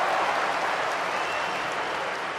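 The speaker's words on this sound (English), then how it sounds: "eventually a bit of noise from the crowd" A football crowd at a 3rd Division match between Arminia Bielefeld and 1860 München gives off a steady, broad roar of noise from the stands, sustained and fairly loud throughout.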